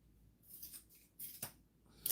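Scissors cutting through a long length of fabric, about two yards, in a few short crisp snips close by with quiet pauses between them.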